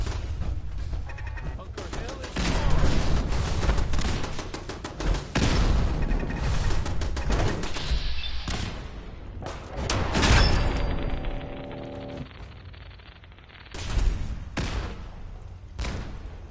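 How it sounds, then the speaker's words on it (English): A grenade blast and gunfire in Fallout 4: repeated sharp shots and booming impacts scattered across the stretch, loud and close, with some talk mixed in. "Uh-oh. Grenade!"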